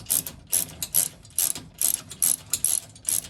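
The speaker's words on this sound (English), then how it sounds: "And then a ratchet should be sufficient." Ratchet snugging a bolt on a Baja Designs chase light mount on a 2024 Toyota Tacoma, a quick run of sharp, evenly spaced clicking bursts, loud and close, with no speech.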